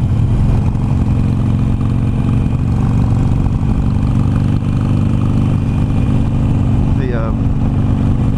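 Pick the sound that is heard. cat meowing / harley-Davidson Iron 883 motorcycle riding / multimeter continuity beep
harley-Davidson Iron 883 motorcycle riding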